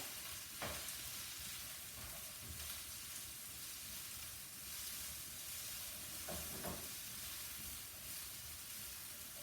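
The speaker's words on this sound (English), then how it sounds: "So I'm just going to saute my onion in that warm oil." Red onion sautéing in warm oil in a pan: a steady, broad hiss and sizzle runs throughout, with a few soft stirring knocks, close and even, with no voices.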